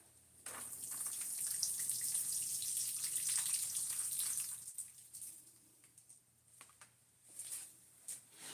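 Water sprays steadily onto freshly transplanted indoor garden plants for several seconds, a soft hiss that then breaks into fainter intermittent splashes and trickles, close and quiet with no talking.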